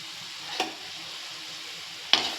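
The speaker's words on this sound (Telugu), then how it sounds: "ఇవి బాగా ఫ్రై అవ్వాలి" Ingredients frying in oil for chaat make a soft, steady sizzle, broken by two sharp stirring scrapes in the pan, close up with no talking.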